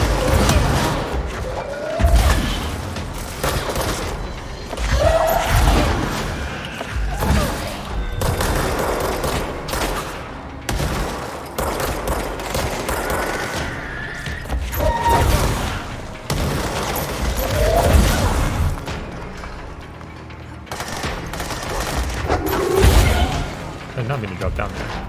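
Repeated gunfire bursts in the video game Control, with loud shots and impacts spread across the scene over a continuous game soundscape, while a player talks over the action.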